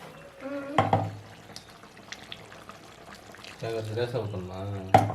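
Liquid dish being poured out in a home kitchen, a soft, continuous splashing pour under a person talking loudly and nearby.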